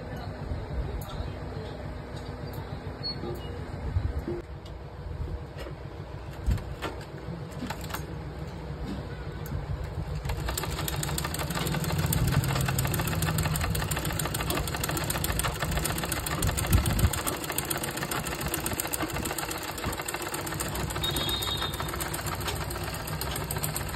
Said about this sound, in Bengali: এইটা ভেবে সেলাই করবে, তবে এরকম ভাবে করলে একদম ঠিকঠাক সেলাই হবে